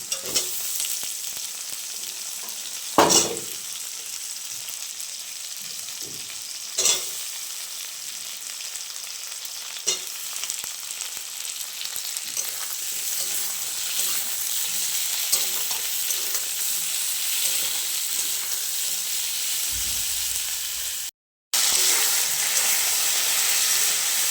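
Potatoes frying in a pan with onion, garlic and green chili, a steady close sizzle and hiss with occasional stirring scrapes and clatters, no talking.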